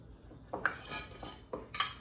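Holiday Chex Mix tossed in a bowl, heard as a few sharp clinks and rattles of a utensil against the dish, with soft rustling of the dry mix in between.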